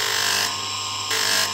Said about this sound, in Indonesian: Bahan amplas 360 kita amplas 600.